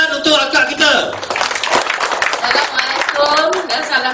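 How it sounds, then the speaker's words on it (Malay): An audience claps for a woman about to give a product testimony, with scattered applause running under loud, close talk and cheering voices throughout. "Tepukan untuk akak kita."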